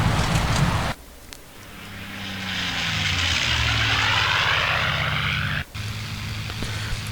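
Spitfire Mk I piston engine in modded IL-2 1946 HSFX flight sim, a loud steady propeller drone that briefly cuts out twice, with low rumbling harmonics shifting in pitch as power changes.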